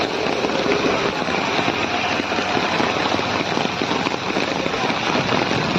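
A heavy downpour hammers a road in Gariyadhar, near the Palitana road, as a loud, dense, unbroken roar of water with fine spattering texture throughout.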